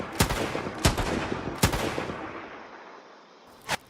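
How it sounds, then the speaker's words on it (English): Explosions in the video game The American War: four sharp, loud blasts at uneven intervals, the first three close together over a rumbling noise bed, then a pause before a final burst. "That explosion was very aggressive."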